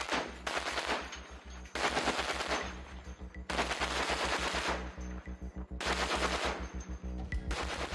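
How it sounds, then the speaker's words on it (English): Phalanx CIWS close-in weapons gun on a Navy ship firing in several rapid, buzzing bursts, each a dense stream of shots separated by short pauses, loud and sharp with no talk. "One of the most recognizable of these systems is the Phalanx Close-in Weapons System, or CIWS."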